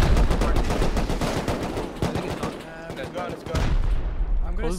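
Rapid gunfire in the survival game Rust during a large raid defense, loud bursts of shots crackling one after another, with voices talking over the action.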